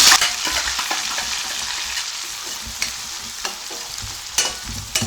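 Onion and curry leaves sauté in hot oil alongside cumin and pepper for a brinjal gravy, a steady loud sizzle broken by several sharp scrapes of a spoon stirring the pan, with no voices.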